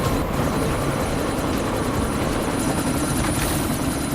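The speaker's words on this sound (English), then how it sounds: "you need to disable that chopper" A helicopter in the video game Deus Ex: Mankind Divided thrums with a loud, steady rotor and engine drone that fills the whole stretch without a break, with no voices.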